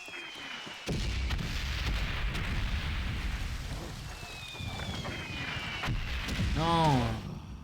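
Artillery shells and bombs fall in the Valiant Hearts war game, with a steady loud rumble of blasts and debris throughout and a descending whistle of an incoming bomb near the end.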